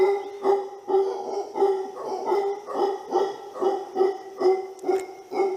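A dog barks repeatedly at close range, a steady rhythmic series of about a dozen sharp barks evenly spaced, moderately loud with no talking.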